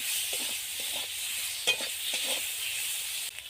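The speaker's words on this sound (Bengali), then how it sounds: "1 চামচ হলুদ গুঁড়ো দিয়ে ভালো করে কষিয়ে নেব।" Green chili paste, tomato paste and turmeric sautéing in a pan for a bean curry, giving a steady soft sizzle with a few spoon scrapes and stirring knocks, fairly close and with no talk.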